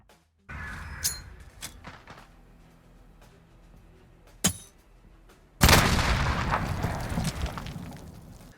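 A thrown grenade detonates in an online shooter on the Azhir Cave map: a soft throw and a couple of small pops give way to a loud, sustained blast that rumbles and fades over several seconds, with no talking.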